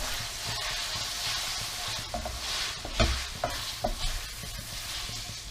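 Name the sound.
cooked pasta stirred in bacon pan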